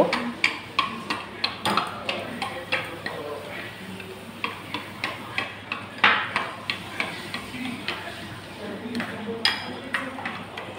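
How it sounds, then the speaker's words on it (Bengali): Powdered milk being stirred into an egg pudding mixture, heard as a steady run of light, rhythmic clinks and scrapes of a utensil against a bowl, close and moderately loud, with no talking. "অল্প অল্প করে পাউডার দুধ মিক্সড করে নেব"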